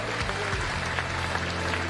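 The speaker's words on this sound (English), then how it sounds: "Huge round of applause." A crowd at an ECT 2022 Street Fighter V eSports tournament applauds in a dense, steady roar of clapping that lasts the whole moment, with a low hum from the hall underneath.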